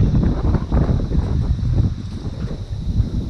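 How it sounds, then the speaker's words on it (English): Strong wind buffets a boat on the Clarence estuary, a steady loud rumbling roar of wind noise with gusty swells throughout, no other sounds standing out. "Oh, god damn you wind."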